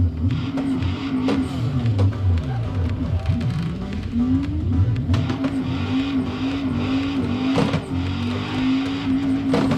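A simulated Mazda Miata drift car's engine, in a racing simulator game, revs and whines continuously with fluctuating pitch as tires squeal and skid, a steady loud drifting run with no talking.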